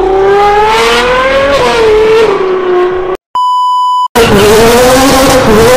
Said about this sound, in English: Ferrari is killing the other car's exhaust systems.